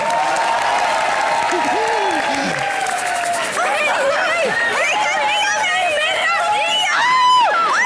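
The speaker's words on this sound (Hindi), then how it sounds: "मेरे लिए जोरदार तालियां हो जाएं" A television comedy studio audience breaks into loud, sustained clapping and cheering, with whoops, laughter and voices rising over the crowd noise.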